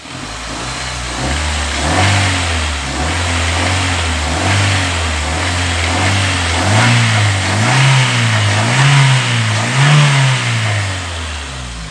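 A car engine revs repeatedly during a test of cleaning a radiator with Coca-Cola, rising and falling in steady surges, loud and close, with no talk over it.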